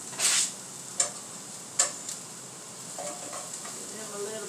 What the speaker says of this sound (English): Give them a little bit of a stir.